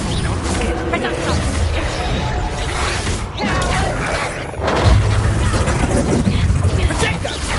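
Confringo blasting spells exploding in Hogwarts Legacy combat, loud crashing bursts and booms over dense battle noise with a voice shouting spell names.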